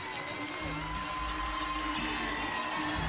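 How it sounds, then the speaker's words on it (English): A home arena crowd at Pauley Pavilion cheers steadily after a Yurchenko layout full vault at a women's college gymnastics meet, a broad sustained roar filling the whole stretch with no voice over it. "the crowd responds in front of the home folks at Pauley Pavilion"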